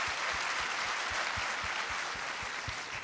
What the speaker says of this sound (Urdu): ان کے لیے بڑی زوردار تالیاں بجائیے، بڑی زوردار۔